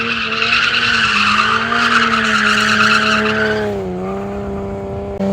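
A 200-horsepower Toyota JZX100 drifts on an uphill track, its engine holding a loud steady rising note while the tires shriek in a long continuous skid, easing off near the end.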